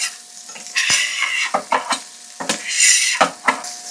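Grapeseed oil sizzling in a pan as food is stirred and scraped, with sharp bursts of frying hiss and utensil scrapes at close range.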